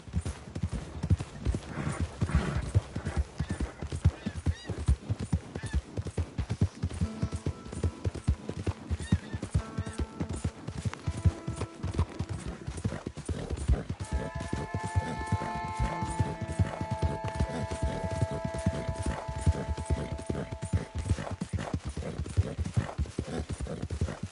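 Horse hooves clip-clop at a steady walking pace on a trail in the video game Red Dead Redemption 2, continuous and close, with soft background music tones and no voices.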